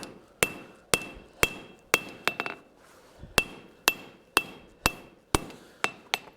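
Hammer forging metal on an anvil, a dozen sharp ringing strikes in a steady rhythm with a few quick double blows, each clang bright and metallic and decaying between hits, no talking.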